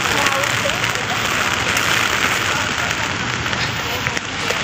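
Rain falls steadily on a cold, wet day in Hong Kong, a dense even hiss that stays at a constant level from start to finish with no break.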